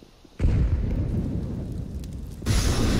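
Flash grenade going off in Sleeping Dogs, a sudden loud burst after a quiet moment, followed by a sustained rumbling roar and a second surge of noise near the end.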